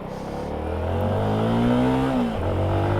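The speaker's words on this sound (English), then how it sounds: "Good God, that thing revs high." A high-revving 2022 CFMoto 300SS sport motorcycle engine climbs steadily in pitch, holds near the top, then drops briefly before rising again, loud and close.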